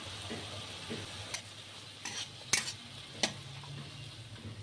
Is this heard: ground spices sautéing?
yes